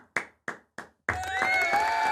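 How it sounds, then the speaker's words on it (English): A few loud, separate claps, like a cheap applause sound effect, give way to a sustained burst of clapping with a ringing, electronic-sounding tone layered on top. "Applause again."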